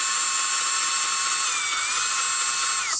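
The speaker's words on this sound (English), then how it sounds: "I'll try to straighten that out with these step drills." A step drill bit bores holes through a plastic food container for a robot prototype, giving a loud, steady, high-pitched whine that holds throughout with a slight pitch dip near the end and cuts off abruptly.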